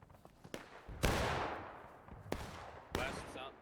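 Sharp rifle shots ring out in the Civil War battle game War of Rights during a 300-player match: three loud cracks with long echoing tails, spaced about a second apart, over low background rumble and faint voices.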